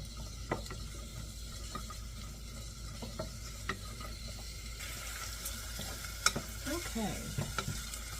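Ingredients stirred and sautéed in a pan for Mediterranean low-carb cooking, cooked until translucent: soft steady sizzle with scattered scraping clicks of a utensil against the pan, alone at close range.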